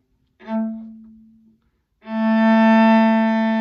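Two bowed violin notes, a short one that fades, then after a pause a longer, brighter A held steadily, played alone and close.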